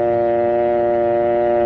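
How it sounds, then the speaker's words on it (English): A steady, continuous telephone dial tone hums unbroken and loud for under two seconds, with no voices. "And listen for the dial tone."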